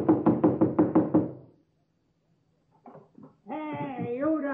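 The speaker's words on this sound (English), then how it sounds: "Knocking and banging, banging and knocking." Knocking and banging in an old-time radio drama: about six quick, loud, evenly spaced knocks, then a pause, faint noises and a voice starting to speak.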